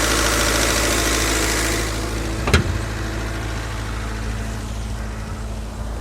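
A stock D16 engine in an automatic Honda Civic, said to have a blown head gasket, idles with a steady low hum, joined by a single sharp click partway through.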